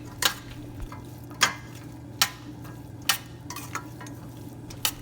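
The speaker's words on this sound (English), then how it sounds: "Mix the salt with all the vegetables." A spoon stirs salt into vegetables in a pan for veg pulao, giving sharp, irregular scraping clinks about once a second over a faint low hum.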